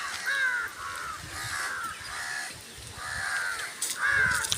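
Crows caw repeatedly in a village, their harsh calls coming in a steady series of drawn-out caws at moderate distance over a constant outdoor background hiss.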